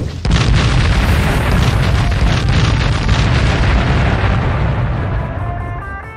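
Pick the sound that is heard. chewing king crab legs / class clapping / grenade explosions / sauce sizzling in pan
grenade explosions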